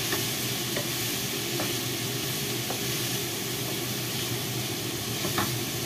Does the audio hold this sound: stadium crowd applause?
no